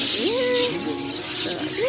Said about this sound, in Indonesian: Banyak burungnya.